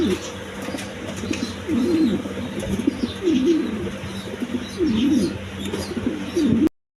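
Large pigeons coo repeatedly in a loft, their low rolling calls steady and close, with faint chirps and some background noise.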